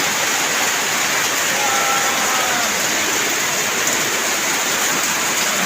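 Heavy rain pours steadily over a farm in a dense, continuous wash of hiss, with a faint higher tone drifting briefly through the middle.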